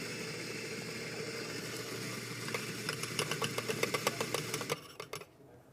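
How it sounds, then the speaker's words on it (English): A coffee grinder runs a double shot's worth of beans to purge the grinding chamber and chute, a steady motor whir that turns into a rapid rattling burst near the end before cutting off, close and moderately loud. "I'm going to purge this out by using, depending on the size of your grinder, maybe a double shot worth of coffee"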